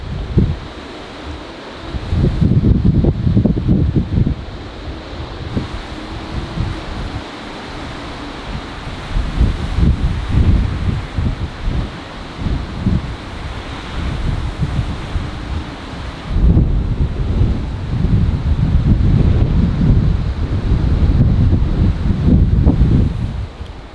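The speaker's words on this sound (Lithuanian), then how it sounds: "labai vėjuota ir neapsimoka gaišt laiko, dar vėjas tuo labiau žada padidėti" Strong wind roars outdoors, with heavy microphone buffeting in repeated loud gusts that rise and fall over a constant rushing background.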